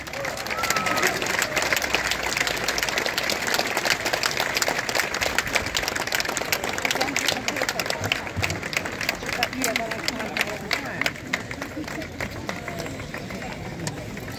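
Audience applause greets the costumed court of Napoleon III parading onto the square in Vichy, a dense, steady clapping from a crowd that holds for the whole span, with voices and outdoor bustle mixed in.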